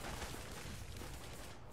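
Gunfire from a companion's gun in The Cycle, a dense, continuous burst of shots and booms that fills the whole moment, loud and close, with no talking over it.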